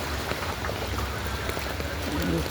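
Steady rain falling on a waterlogged city street, a constant even hiss with scattered drop patter and faint background voices.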